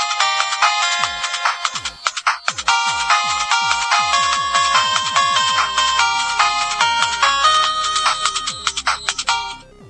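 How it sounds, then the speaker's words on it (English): A mobile phone ringtone plays loud and up close, a busy chiptune-style electronic melody with rapid repeated notes and a steady pulse running for the whole stretch, no voices. "That's my ringtone. Quite awesome."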